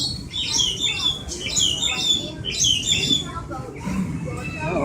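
A pet bird squawks and chirps in repeated bursts close by, with people talking over a steady background hum.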